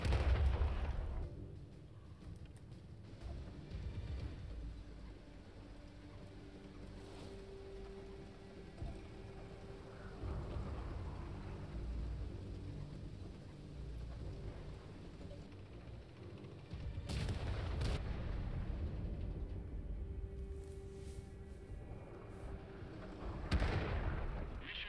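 Tier 2 artillery firing in World of Tanks, with scattered booming shots and bursts over a rumbling battlefield bed, moderately loud, no talk.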